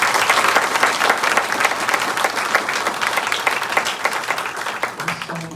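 An audience at a community meeting on data centers in Forsyth County gives the expert presenters a steady, full round of applause, dense clapping filling the room without a break.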